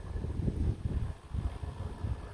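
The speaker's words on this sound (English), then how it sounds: "The weather, getting windy," Wind gusts outdoors in a low, uneven rumble, buffeting in slow surges of moderate loudness with no voices.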